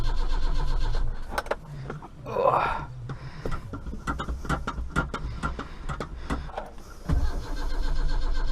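An Austin Maxi cranks after three months standing, with repeated starter churning, a brief mechanical burst, then uneven cranking and clatter before the engine catches into a running rumble near the end.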